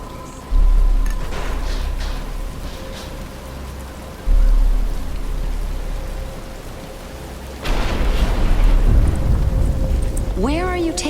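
Rain pours down in the Batman Arkham Asylum video game, a steady loud hiss with low rumbling bursts like thunder, a few faint game effects, and a rising whoosh near the end.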